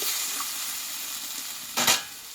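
Chicken spice masala cooking in oil as it releases its oil, heard as a low steady sizzle broken by one brief louder scrape or stir near the end, with no voices.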